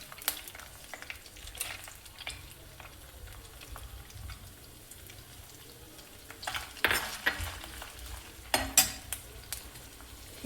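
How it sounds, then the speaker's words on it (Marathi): Chopped large onion frying in oil for a Vidarbha-style Saoji vegetable dish makes a soft continuous sizzle, broken by intermittent louder scrapes and clatters of a spoon stirring in the pot; no speech. "आणि या तेलामध्ये हा चिरलेला जो साधारण मोठा कांदा आहे तो चिरलेला तो टाकत आहे."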